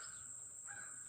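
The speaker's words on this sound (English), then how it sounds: "It's like there's certain birds chirping" Brief, faint bird calls outdoors, a couple of harsh caws over a steady high-pitched hiss, with no one talking.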